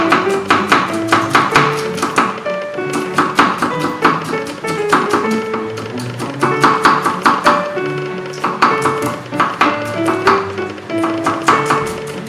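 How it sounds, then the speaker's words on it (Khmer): Garlic is chopped by knife on a board for a shrimp stir-fry, with steady rapid rhythmic chops running throughout over background music. "ឥឡូវយើងត្រូវមិញច្រាំខ្ទឹមបងប្អូនដើម្បីយកទៅទុកឆាជាមួយបង្គា"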